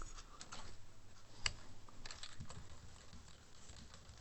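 Text is typed on a computer keyboard, a run of soft, irregular key clicks with one sharper tap, fairly quiet over a faint background hum.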